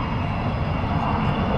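A steady, loud aircraft engine roar from a slow fly past at the Farnborough Airshow 2014, droning evenly throughout the short stretch with no voices.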